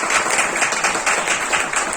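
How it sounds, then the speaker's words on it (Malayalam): An audience in a hall applauds with a dense, steady wash of clapping that stays fairly loud and even from start to finish. "നിഷാൻ സാർ മഞ്ചേരിക്ക് വേണ്ടി നല്ല കൈയടി കൊടുക്കും."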